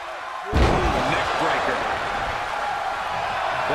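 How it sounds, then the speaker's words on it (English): Virtual arena crowd in the wrestling video game WWE 2K23 roars after a sharp ring slam, a loud sustained wall of cheering that holds steady to the end. "sound of this crowd is deafening"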